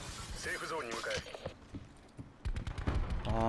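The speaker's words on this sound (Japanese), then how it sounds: "発砲してる。" Gunfire in the video game Call of Duty: Black Ops 4, with scattered sharp shots and bursts of rapid fire, moderately loud, under and between excited talk from players.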